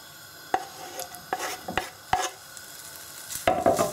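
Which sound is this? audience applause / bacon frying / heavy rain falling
bacon frying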